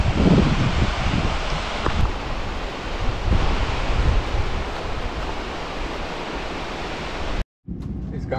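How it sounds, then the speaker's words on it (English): Fantail Falls near Wanaka, New Zealand, gives a steady, full-bodied roar of rushing water close by that runs unbroken before cutting out briefly near the end. "Waterfall. It's a Fantail waterfall."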